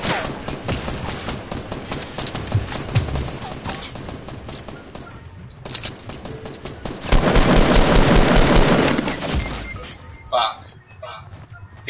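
Rapid bursts of video game shotgun and gunfire crack through a fast match, mixed with shouted voices, with a dense loud stretch of firing near the end.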